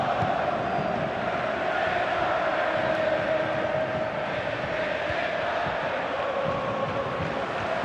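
Stadium crowd noise from the FC 24 football video game, a steady dense roar of spectators with a rising cheer, continuous throughout and fairly loud with no voices over it.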